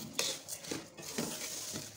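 Vermicelli frying with sugar in a pan on medium heat, stirred with a utensil that scrapes and clinks against the pan in quick, faint repeated strokes.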